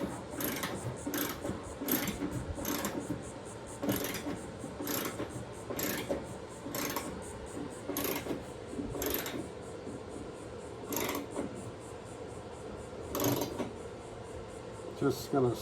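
A hand ratchet snugs a bolt on a wheel well liner being installed on a 2024 GMC Sierra 2500, sounding as a series of sharp, fairly regular clicking bursts, close up and moderately loud, with no speech.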